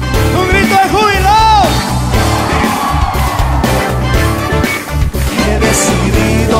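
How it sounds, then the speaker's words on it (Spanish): A church congregation at a worship service lets out loud, sustained shouts and whoops of joy, forming a dense crowd roar with music playing underneath. "Un grito de júbilo."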